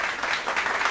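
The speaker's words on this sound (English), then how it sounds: "Come on, clap it up for Todd." A short burst of applause from a small group, a dense patter of clapping for under a second.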